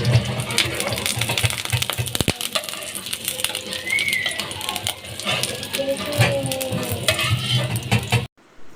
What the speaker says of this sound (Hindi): ये देखें कितनी ज़बरदस्त ये फ्राई हो रही हैं।